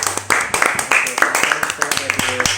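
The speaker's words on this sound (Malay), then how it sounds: "Tepuk tangan dekat Fadil." Classmates in a classroom clap for a student, a burst of quick uneven handclaps from a small group, close and fairly loud, mixed with voices talking.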